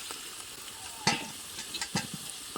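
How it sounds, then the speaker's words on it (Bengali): Potatoes fry in oil in a pan over low heat, giving a soft, steady sizzle with a few louder scrapes and clinks of stirring scattered through it. "আলুটা অবশ্যই করে হালকা আঁচে এইভাবে লালচে করে ভেজে নেবেন"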